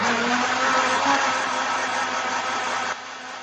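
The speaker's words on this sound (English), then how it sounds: "Put on our smoothie machine." A smoothie machine blends a chocolate mousse mixture with a loud, steady motor whir that drops in pitch and volume shortly before stopping.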